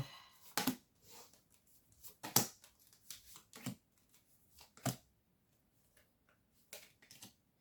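Tarot cards are shuffled and cut in a quiet room, with a series of crisp, separate riffling snaps and soft slides spaced irregularly over several seconds, close and fairly faint.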